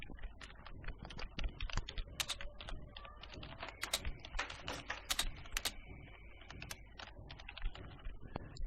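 Steady bursts of keystrokes on a computer keyboard while C++ code is typed, close and clear, with short pauses between runs of clicking and no speech.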